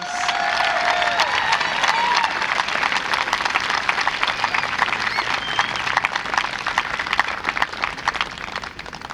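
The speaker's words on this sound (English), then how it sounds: "Can we have a round of applause for the Discovery House?" Sustained applause from a large audience at an 8th grade moving-on ceremony, dense steady clapping filling the room for the whole stretch, with a few faint cheers mixed in.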